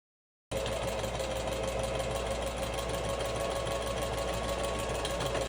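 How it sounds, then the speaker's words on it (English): A sewing machine starts up and runs steadily on its longest stitch, sewing curved bodice pieces, with a continuous whirring, buzzing hum that keeps an even pace throughout. "use the longest stitch on our sewing machine to stitch the curved front bodice pieces"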